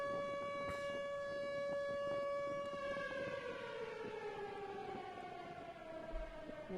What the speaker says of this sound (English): Oh, there's sirens.